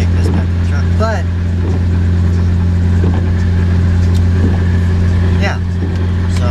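A BMW car driving, heard from inside the cabin as a steady low engine drone and road rumble that holds constant throughout, with a few faint higher chirps over it.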